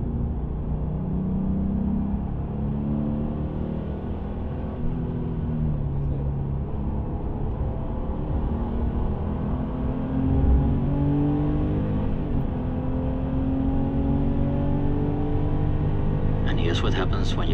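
A Porsche 993 engine, mounted in the rear, drones and revs inside the cabin on the Spa-Francorchamps circuit, shifting pitch through gears over a long steady stretch while someone talks over it.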